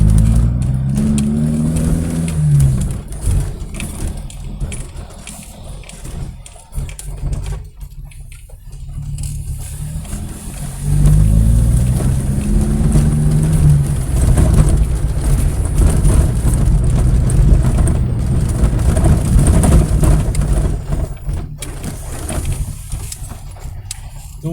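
Car engine pulling up a gentle incline from a street corner, with a deep steady drone that rises in pitch as it climbs, eases, then revs up again and holds a loud, close strain.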